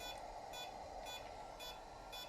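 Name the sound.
drone controller buzzer beeping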